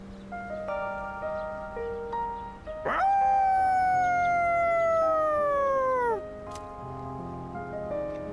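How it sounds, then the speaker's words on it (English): Koromaru, a dog in the game Persona 3 Reloaded, lets out one long, clear howl at a quiet shrine, bending slowly downward for about three seconds above soft background music. "Koromaro howls with these sounds throughout the quiet shrine"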